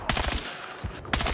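A gun with no attachments fires in Battlefield 6 as two short automatic bursts of rapid, punchy shots separated by a brief pause, loud and close.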